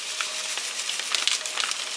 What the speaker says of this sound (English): I'm just going to pour my breadcrumbs in here in the butter.